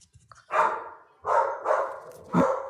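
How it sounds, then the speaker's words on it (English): A dog barks three times in loud, separate bursts, close to the microphone, with short quiet gaps between the barks. "I'm gonna mute my dog's bark."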